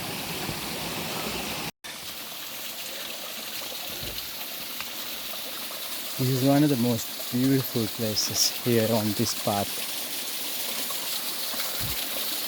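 Steady rushing of a stream flowing beside a mossy mountain pilgrimage path on the Kuruwita Erathna trail to Sri Pada, continuous and fairly close, with someone talking over it partway through.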